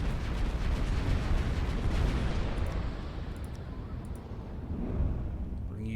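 Heavy, sustained barrage of booming energy-weapon fire in the space strategy game Final Theory, with a plasma gun among battleship guns, a dense continuous rumble without pause and a voice speaking over it.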